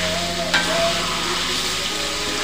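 Beef and spice paste frying in a pan, sizzling steadily while it is stirred, with a brief scrape of the utensil near the start.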